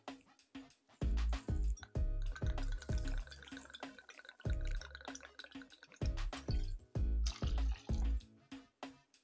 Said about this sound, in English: Then you'll want to pour 2 ounces of gin into your shaker.